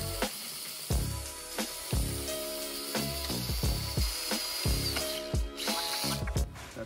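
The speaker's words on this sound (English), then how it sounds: "Get that loaded, let's drill some holes." A power drill with a 10 mm bit bores holes into a Honda Ruckus scooter's battery box, sounding as a run of repeated close, loud bursts of grinding and whirring with short pauses between them, and no talking.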